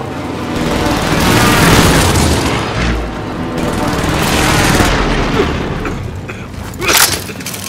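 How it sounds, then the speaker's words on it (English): Airstrike explosions in Call of Duty: Modern Warfare roll in as a series of heavy booming blasts mixed with rumbling mechanical noise, loud and sustained, with a sharper burst near the end. "Mark target for airstrike."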